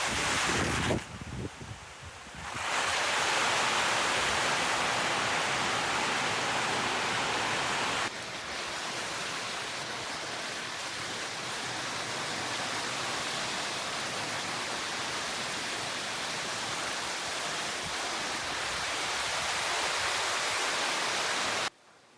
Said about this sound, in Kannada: ಮಳೆ ಬರ್ತಾನೇ ಇದೆ ನೋಡಿ, ಎಷ್ಟೊಂದು ಜೋರಾಗಿ ಬರ್ತಾ ಇದೆ ಅಂತೇಳಿ ಇಲ್ಲಿ ಮಳೆ